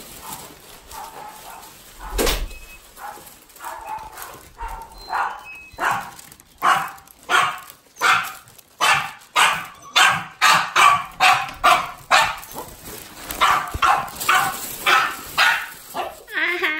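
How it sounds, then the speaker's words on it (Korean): Pet dogs bark at home in a rapid run of loud, sharp barks that grows denser and more insistent, nearly continuous toward the middle, with a voice briefly heard amid the noise. "멍멍이들이 분명히 엄청 짖을 텐데"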